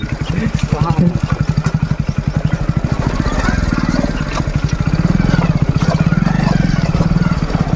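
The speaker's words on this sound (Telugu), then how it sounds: "ఫస్ట్ గేర్ సెకండ్ లోనే బండి నడవాలి ఈ ఘాట్ మీద" A motorcycle engine labours in low gear up a steep ghat road in Telangana's Gundala Utla ghat, a steady throbbing drone, close and loud throughout, swelling slightly toward the end.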